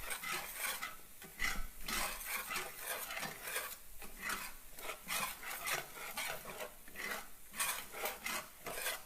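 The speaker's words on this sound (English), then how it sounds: "I'll get my spatula. And I'm going to stir this around." A spatula stirs flour and pepper gravy in a pan, making soft, rhythmic scraping strokes that repeat steadily at close range with no talking.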